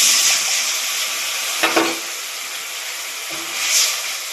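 Spices mixed in water poured into a pan of fried onions give a loud, steady sizzle and hiss, with a brief burst of spattering as the liquid hits the hot oil, then a continuing fry.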